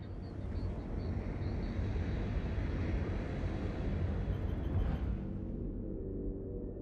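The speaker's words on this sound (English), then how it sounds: "Warp drive active." A spaceship's warp drive engages in the space game Eve Online, a low, steady rumbling roar with a rising whoosh that swells and then thins out, faint and continuous.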